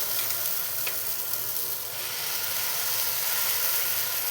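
Egg chapatti fries in oil in a nonstick pan, giving a steady, close sizzle and hiss that stays even throughout with no voices.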